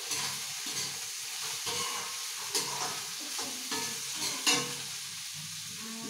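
Food frying in a pan with turmeric and salt gives a continuous close sizzle and hiss, broken by repeated stirring scrapes and a few sharper knocks of the spoon.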